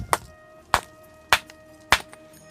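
A ringing stone on Jhunjhunwa hill in Aurangabad is hit four times at a steady pace, each sharp strike leaving a brief metallic, bell-like ring that lingers between blows.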